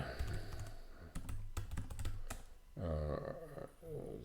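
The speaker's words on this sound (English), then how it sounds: "I'll just type it in" Computer keyboard being typed on up close, a quick burst of sharp key clicks in an irregular rhythm, followed by brief muffled talk near the end.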